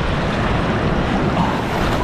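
Ocean waves washing onto a beach at low tide, a steady loud rush of surf mixed with wind noise on the microphone, continuous throughout with no voices.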